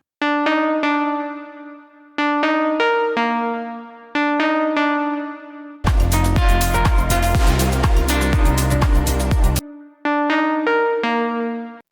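A Serum recreation of the distorted synth pluck from a track: bright pluck phrases repeat in short bursts with gaps, interrupted midway by a loud, dense distorted passage with a pounding beat, then the plucks return.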